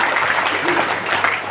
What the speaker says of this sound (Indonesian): Tepuk tangan buat Pak Sidarta.